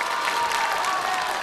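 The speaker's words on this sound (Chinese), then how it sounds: "掌声送给我们的点评嘉宾，" Studio audience at the CCTV talent show Star Avenue applauding in a thick, continuous burst of clapping, with a faint cheer or voice rising briefly within the crowd noise.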